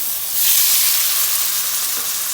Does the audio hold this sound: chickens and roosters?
no